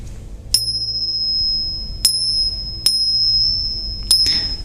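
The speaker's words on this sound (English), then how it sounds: "why do I ring the bells?" Bells rung during meditation strike four times at uneven intervals, each ring bright and near, with a clear sustained tone that hangs and fades over a soft low hum.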